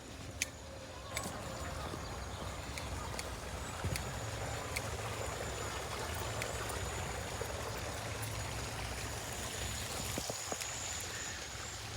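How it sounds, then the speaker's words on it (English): A waterfall in Manhattan Beach Botanical Garden rushes continuously, a broad wash of splashing sound with faint birds and distant voices now and then. "They've even got their own waterfall."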